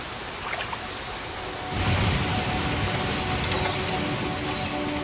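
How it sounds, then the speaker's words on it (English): Heavy rain in the Amazon rainforest starts as a lighter patter and swells into a dense, loud, steady downpour. "The jungle still gets heavy downpours."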